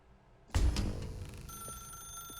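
An old-fashioned telephone bell in The Stanley Parable starts ringing suddenly after a near-silent moment, a bright metallic ring that then settles into a steady sustained electronic tone, close and moderately loud.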